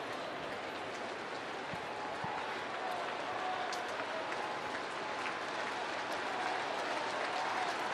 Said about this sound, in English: This big crowd, many of them on their feet.